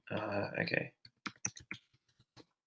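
Keystrokes on a computer keyboard follow a short burst of speech, several light, separate clicks spaced irregularly and heard close up in a quiet room.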